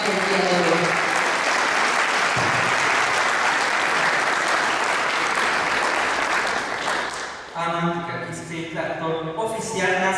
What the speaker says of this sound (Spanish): Queríamosles un fuerte aplauso también que nos acompañen el día de hoy.